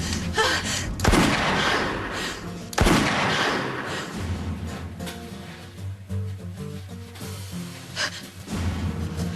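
Gunshots in a dramatized shooting scene from a soap opera, two loud sharp bangs a couple of seconds apart, each with a brief reverberant tail, followed by quieter room tone and movement.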